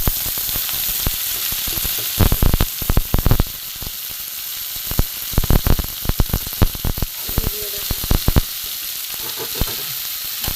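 Grated green jackfruit and potato paste hits a hot pan and fries with a loud, continuous sizzle, broken by bursts of crackling and spattering as it is stirred.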